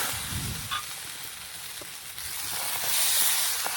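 Coffee pitha batter is ladled onto an oiled tawa and sizzles in a steady, close hiss that grows a little louder toward the end, with no voices.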